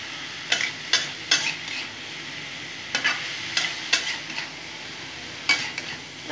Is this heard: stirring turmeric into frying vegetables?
yes